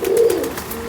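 A pigeon gives a short, close coo, a soft rounded call that rises and fades within a second, with no voices around it.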